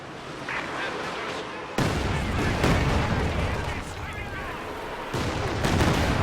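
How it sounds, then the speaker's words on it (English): A Katyusha rocket artillery barrage in Company of Heroes 2 lands with heavy booming impacts and rumbling explosions, loud and sustained over battlefield gunfire, with a commentator speaking underneath. "nice hit from that Katyusha there"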